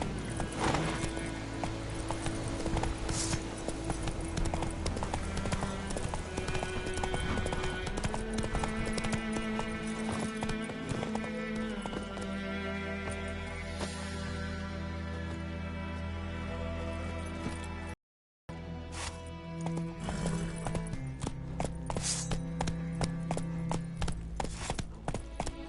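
A horse gallops in The Witcher 3 game, hooves clip-clopping in a rapid steady rhythm over a dense layer of game music and ambience, with a brief dropout partway through.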